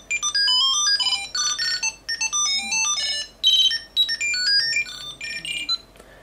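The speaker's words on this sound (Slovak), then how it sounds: "Prehrať si zvuk v prípade straty." An Apple AirTag plays its locate alert: a loud series of rapid, bright electronic chirping tone bursts in repeated phrases with short gaps, close and alone.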